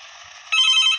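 A telephone ringing inside a taxi video game, a steady electronic ring that starts halfway through and sounds alone and fairly loud after a quieter tonal hum.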